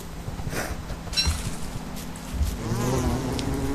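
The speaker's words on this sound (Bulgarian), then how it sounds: "Да, много пчели." Bees buzzing in the survival video game Don't Starve, a steady insect drone with several overlapping buzzes that swell and fade near and far, with no talk over them.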